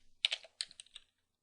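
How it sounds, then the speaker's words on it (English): Several quick keystrokes clatter on a computer keyboard as a command is typed, forming a short, close, irregular burst of clicks that ends in silence. "Let's type in apt-cache"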